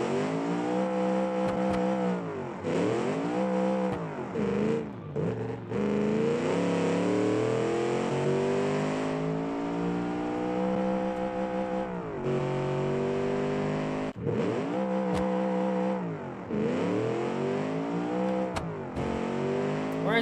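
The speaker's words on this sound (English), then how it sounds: "I could build an engine. This is my very own automation car." Car engine in the video game Automation, the player's own custom-built car, revving repeatedly in rising and falling sweeps, loud and steady with brief drops between pulls.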